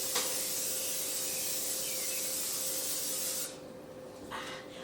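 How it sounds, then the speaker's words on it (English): Butter spray from an aerosol can is sprayed into a casserole dish by a kitchen sink, one continuous close hiss lasting about three seconds that cuts off sharply, followed by a brief faint second puff. "with a little spray, just so my corn casserole doesn't stick"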